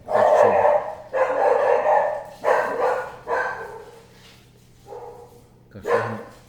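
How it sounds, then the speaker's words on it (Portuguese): A dog barks repeatedly at a gate, loud and close, in a series of strong barks with short gaps; a rooster-like crow may blend in faintly. "cachorro no portão"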